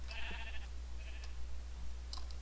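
A black sheep in the Minecraft video game bleats a few short, thin calls over a steady low hum, faint and close, with no talking.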